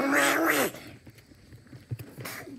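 A single drawn-out cat meow, loud and close, lasting under a second, followed by quiet room noise and a few faint knocks.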